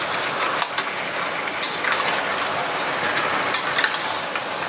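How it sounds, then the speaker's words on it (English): Mutton frying in a pan over medium heat gives a constant crackling sizzle, with intermittent scraping and clattering as it is stirred. "Continue to fry this in medium heat."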